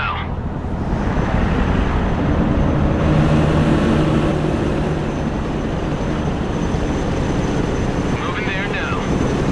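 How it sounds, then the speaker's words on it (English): A helicopter in the Broken Arrow strategy game makes a loud, steady rotor and engine roar that persists throughout, with faint radio-style voice chatter laid over it. "Helicopters are impressive machines. Boy, are they noisy."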